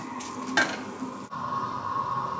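Chicken with garlic, cumin and coriander powder cooks in a pan, giving a soft sizzle with a quick stirring scrape and a clink partway through.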